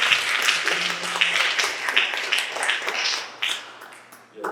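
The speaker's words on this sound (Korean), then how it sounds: "큰 박수를 보내주시기 바랍니다" Audience applause at a book launch celebration for a pastor's third book; a room full of clapping, dense and sustained, tapering slightly near the end.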